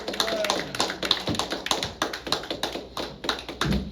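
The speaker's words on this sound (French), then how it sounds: "allons applaudir chaudement" A church congregation applauds in loud, irregular bursts of hand claps that continue steadily throughout, heard close and without talk.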